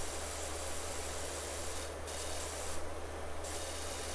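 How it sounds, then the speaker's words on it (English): Steady pressure-washer spray hiss from PowerWash Simulator, a continuous broadband rush with brief brighter bursts as the jet shifts, heard alone with no talking. "I was gonna just spray it from up there"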